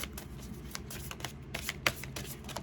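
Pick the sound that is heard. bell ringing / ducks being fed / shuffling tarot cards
shuffling tarot cards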